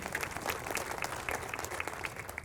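An audience at a municipal band season finale concert applauds, dense clapping with distinct individual claps popping out, steady throughout.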